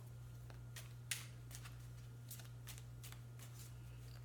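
Tarot cards are riffled and shuffled in a quiet room, giving a string of soft, brief papery bursts at an uneven pace, close by and fairly faint over a steady low hum.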